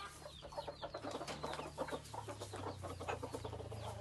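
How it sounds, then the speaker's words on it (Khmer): Chickens of a wild fowl crossbreed clucking nearby in a busy, overlapping chorus of short calls, faint and steady throughout with no talking. "មាន់របស់ខ្ញុំអញ្ចឹង"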